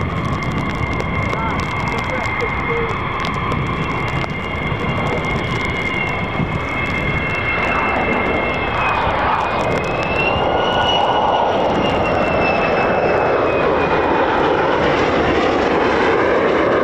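A jet aircraft at RAF Lakenheath roars steadily and loudly overhead, its tone slowly shifting and sweeping as it passes, with a person talking in the background.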